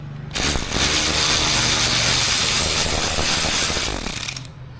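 A ratchet clicks steadily as it undoes screws on a BMW, a continuous close mechanical rattling that runs for several seconds without pause.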